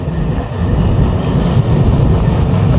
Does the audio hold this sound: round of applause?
no